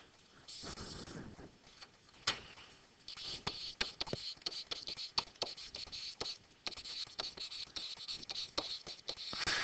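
Marker writing on a board during a geometry lesson, producing rapid scratchy squeaks and taps in irregular strokes, close and clear with brief pauses between words.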